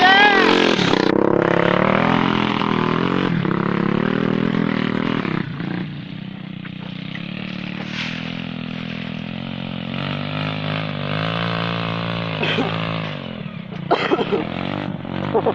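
A trail motorcycle revs and accelerates hard along a mountain trail at Gunung Jati, its loud, close engine droning steadily and rising in pitch, with brief shouts over it.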